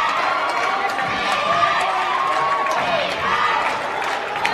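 Crowd in a high school boys' basketball gym, Cross County against Armorel, with scattered clapping and crowd noise and some footfalls on the court, steady and moderately loud, while people talk nearby.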